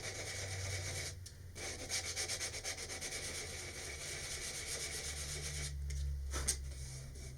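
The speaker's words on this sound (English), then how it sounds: "I need to sand the glue off, and I got some 220 grit sandpaper. And lightly sand that off." Glue being sanded off a model rocket part with 220 grit sandpaper, a steady close scratchy rubbing in continuous light strokes, with a couple of short pauses.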